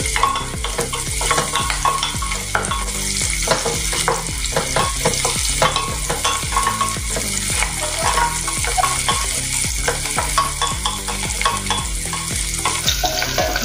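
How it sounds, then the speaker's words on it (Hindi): Whole spices, including green cardamom, cloves and cinnamon, fry in hot oil for carrot and pea pulao, giving a steady close sizzle broken by frequent spoon stirring and scraping against the pan, with no talking. "अभी मसाले हमने खड़े मसाले डाल दिए हैं।"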